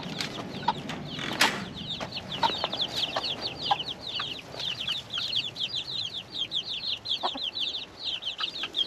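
Chickens cluck and chatter in a steady, busy flock, with a few sharper squawks and wing flaps scattered throughout, fairly close by.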